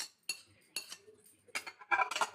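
A metal spoon clinks against a bowl while vegetable cutlet mixture is stirred, giving several sharp separate clatters, close and fairly loud, with a burst of quicker scraping clinks at the end.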